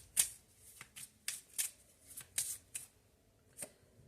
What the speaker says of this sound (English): let me just keep pulling. I want to get all the cards.